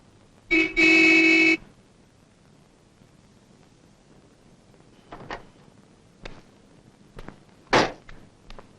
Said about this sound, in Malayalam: കാറ് ഹോണടിച്ചാ വന്നൂടെ നിനക്ക്